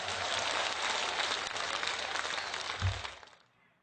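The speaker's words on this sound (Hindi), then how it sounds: "तालियां बजा के स्वागत कीजिए" Dense crowd applause at a large public rally where the Prime Minister is welcomed, a loud continuous wash of clapping that holds steady before fading out over the last half second.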